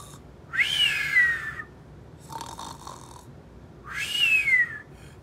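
A storyteller's voice imitates a sleeping giant snoring in a traditional Lakota story: two loud, drawn-out rasping snores about three seconds apart, with a softer breathy intake between them, no words spoken.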